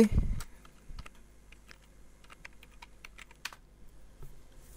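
Keys tapped on a computer keyboard while a phrase is entered, a steady run of light, close clicks in an irregular rhythm, with a louder thump at the very start and no speech.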